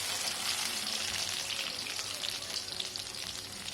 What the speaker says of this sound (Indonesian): Setelah itu kita akan menggoreng kacangnya